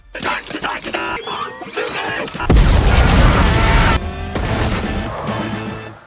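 A grenade goes off in a film scene as a sudden heavy boom and crackling blast that lasts over a second, following busy, clattering action sound and a voice talking over the scene.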